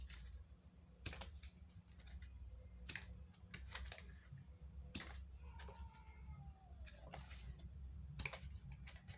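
A hand bends a deck of playing cards and lets them spring out, making sharp, scattered, irregular flicking clicks at close range over about nine seconds, faint overall with no talking.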